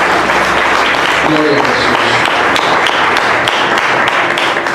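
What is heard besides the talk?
church congregation applauding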